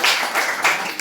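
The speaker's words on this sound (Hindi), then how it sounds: "जोरदार ताली" Loud clapping from an audience at a Jain religious discourse, dense applause in three swelling bursts over a second, no voices over it.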